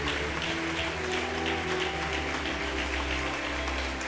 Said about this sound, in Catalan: Un fort aplaudiment per a Pipo Baraja